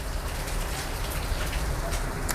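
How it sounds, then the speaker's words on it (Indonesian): Heavy rain pours down in a steady, dense downpour, a loud continuous hiss of drops on surfaces close by, with no voices over it. "karena hujan ya, hujannya lebat sekali,"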